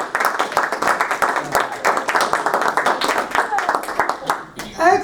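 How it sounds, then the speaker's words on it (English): An audience at a social media gathering gives itself a big round of applause, steady clapping from many hands lasting several seconds, with talk mixed in. "So please give yourselves a big round of applause."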